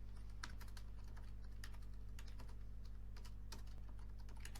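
Quiet computer keyboard typing in short, irregular bursts of key clicks over a steady low electrical hum, with no talking.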